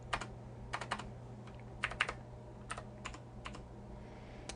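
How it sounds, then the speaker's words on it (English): Quick bursts of keystrokes on a computer keyboard, clustered in short runs with brief pauses, close and fairly quiet, no voices. "And I'll just type title in here."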